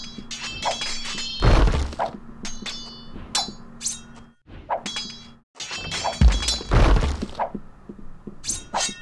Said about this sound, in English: See the battering ram? So what we do, we use these troops to destroy them, annihilate them, before they start to destroy my wall.